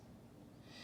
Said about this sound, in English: he heard the owl calling